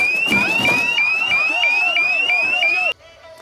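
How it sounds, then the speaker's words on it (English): A loud electronic building fire alarm whoops in rapid repeating rising sweeps, about eight cycles, ringing through a reverberant space before cutting off abruptly. "we'll hear an alarm that will sound throughout the building"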